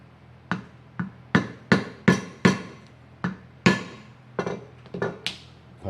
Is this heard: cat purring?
no